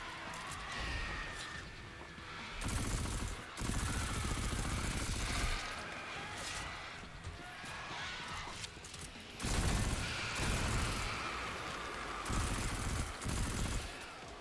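Repeated bursts of gunfire in Destiny 2, with loud stretches of rapid shots alternating with quieter gaps over a steady game backdrop.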